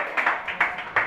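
A small audience at a Mobile Legends tournament event claps briefly, five or six distinct hand claps in an uneven rhythm, close and moderately loud, with no talking over them.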